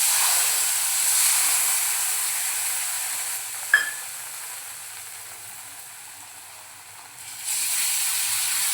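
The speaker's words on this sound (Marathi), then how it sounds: "आता आपण जे 2 वाटी आपण दूध घेतलं आहे ते घालून घ्यायचं आहे." Milk poured into semolina roasted in ghee for mango sheera gives a steady soft sizzle and hiss, with a brief splash near the middle. The sizzle dips, then swells again near the end, with no talking.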